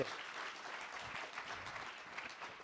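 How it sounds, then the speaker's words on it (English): Applause from an audience at a media festival session, a brief, quiet, distant patter of clapping heard from across the hall. "Please give both of them a warm round of applause."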